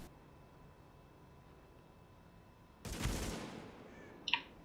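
Gunfire in the video game The Division, a single loud shot bursting in after near-silence, followed a moment later by a brief sharp impact sound.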